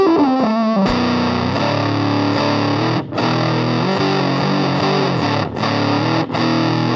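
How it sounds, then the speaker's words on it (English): An electric guitar through an AZOR fuzz pedal gives a saturated, sustained, violin-like distorted tone, playing a continuous line of held notes with a few brief gaps between phrases. "So this Fuzz on their website, they say it's known for its violin-like tone."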